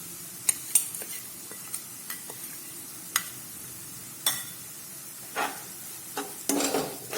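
Finely chopped onion from one large onion goes into a pan of sautéed garlic, with scattered clinks and scraping stirs over a faint steady sizzle, close and fairly quiet.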